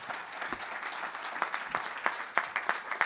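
A conference audience applauds the panelists at a security forum, a room full of clapping with individual sharp claps standing out near the end, steady and moderately loud with no talking over it.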